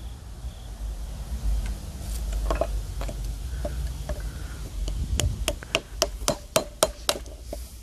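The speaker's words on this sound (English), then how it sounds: "Chop on one side, chop on the other, and then go right in the middle and lever it out." A chisel chopping out a wooden mortise for a medieval mallet: soft scraping at first, then a run of sharp, evenly spaced close taps that quicken and grow louder toward the end, no voices.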